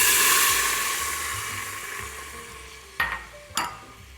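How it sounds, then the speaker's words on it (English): Red wine poured into a hot Instant Pot after searing a roast gives a loud initial sizzle and hiss that fades over a few seconds, followed by two sharp utensil scrapes against the pot bottom. "Now I'm gonna deglaze the bottom of the pot."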